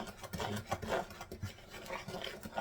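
A spoon scrapes and rasps rhythmically through thick peach cobbler mixture in a cast iron pan, with repeated gritty strokes.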